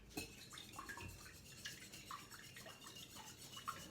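An egg and vanilla mixture is whisked lightly in a bowl, making soft, rhythmic scraping and tapping strokes that stay faint and steady, with no voices.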